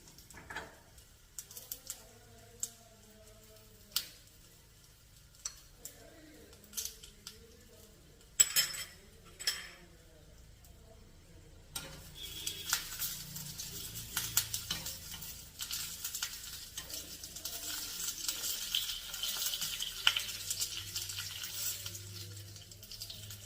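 Dried red chillies and curry leaves are stirred in a hot pan for mango pulissery: scattered metallic scrapes and clinks first, then a steady, bright sizzle of oil that fills the second half.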